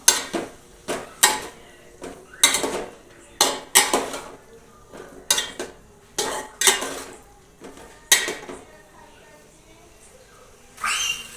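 Carrot, potato and boiled chickpea ragda for ragda pattice being stirred in a metal pot, a spoon scraping and clanking against the sides in a dozen separate sharp bursts with short pauses between, close and fairly loud.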